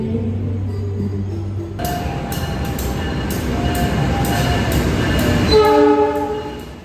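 A train rolls along with a continuous loud rumble and rhythmic wheel clatter, as heard from on board, with a horn-like tone at the start and a few sharp clanks near the end.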